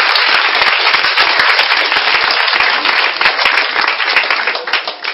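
A church congregation claps loudly and steadily, a dense wash of many hands with scattered cheers, close and continuous before thinning slightly at the end.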